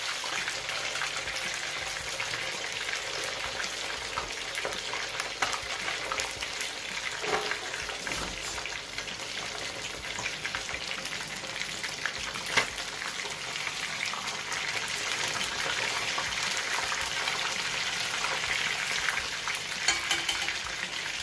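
Brined chicken fries in oil in a pan with a steady, dense crackling sizzle, close and even throughout, broken by a few faint clinks.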